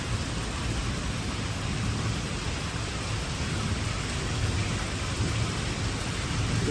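Heavy rain pours down steadily in a dense, even hiss with low rumbling underneath, continuous and fairly close, with no voices.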